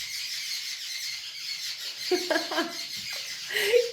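A busy wash of bird chirps and squeals carries throughout, with a few louder, closer calls standing out near the end.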